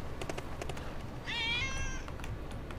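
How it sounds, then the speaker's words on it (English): A cat gives a single clear meow in the Trials Fusion game, sounding over a steady background of engine noise and clicks with no one talking. "Oh, look. The kitty goes meow."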